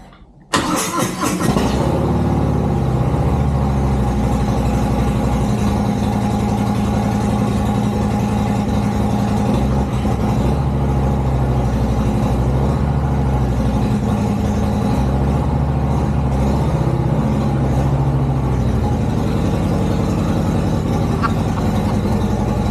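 A 2023 Harley-Davidson Breakout motorcycle cranks and fires up close by, then settles into a loud, steady, rumbling idle that holds for the rest of the stretch.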